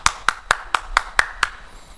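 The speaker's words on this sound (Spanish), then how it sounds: "Un aplauso" Seven evenly spaced single hand claps in a steady rhythm, crisp and close, with quiet between them and no talk.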